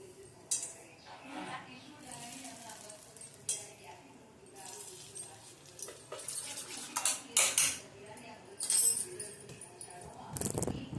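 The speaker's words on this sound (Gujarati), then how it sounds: "હવે આપણે આમાં ગરમ તેલ નાખ્યું હોય થોડુંક, આને ફેટી લઈશું" Metal utensils clink and scrape irregularly against a bowl while whisking fritter batter with a little hot oil added, brisk stirring bursts and occasional sharper clatters, up close.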